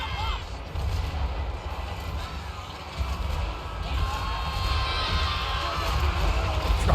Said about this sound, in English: And bombs away.